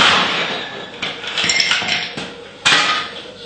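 A bar spoon stirs a Havana Club rum cocktail with homemade pineapple-lemon infusion over ice, producing close, bright clinking and rattling of ice against glass in short bursts, no talking.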